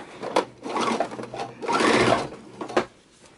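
A home sewing machine stitches fabric for a messenger bag, pivoting with the needle down: short close whirring runs of stitching broken by brief pauses as the cloth is turned.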